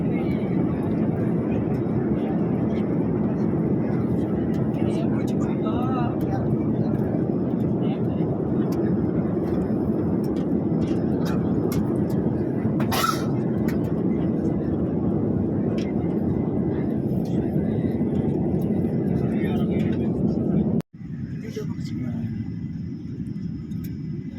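Inside an airplane cabin on arrival in Cairo, a loud, steady engine and air rumble fills the space for about twenty seconds, then drops abruptly to a quieter hum as a brief click sounds.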